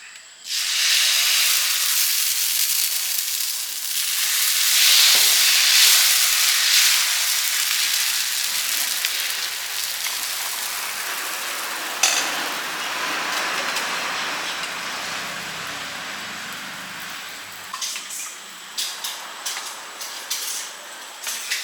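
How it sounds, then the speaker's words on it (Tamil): Navadhanya dosa batter poured onto a hot pan gives a strong hissing sizzle that is loudest at first, then slowly fades, with a few small clicks and taps toward the end. "இதே மாதிரி அடுத்த தோசை ஊற்றிக்கலாம்."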